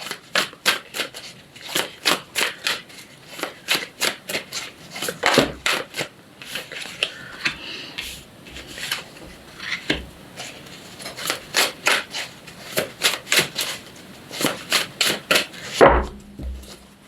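Tarot cards are shuffled up close in repeated riffling bursts with a steady rhythmic flutter and soft papery rubbing, pausing briefly midway before the shuffling resumes.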